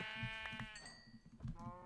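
A sheep in the Minecraft video game bleats several times in quick succession, a wavering nasal baa repeated over a faint background, clear and close with no talking.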